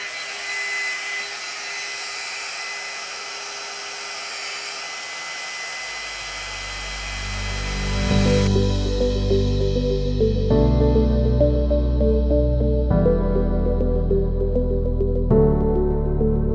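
A GHD Duet 2-in-1 hot air styler drying a section of hair blows with a loud steady whoosh that shifts partway through into a deeper, rumbling airflow with changing tones, close up and continuous, with no talk.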